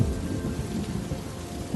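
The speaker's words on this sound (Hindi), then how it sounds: "उस रात बरसात में बादलों की धन गरज के साथ" Rain falls steadily as a low thunder rumble rolls underneath, a dense and fairly loud storm wash heard throughout with no voices.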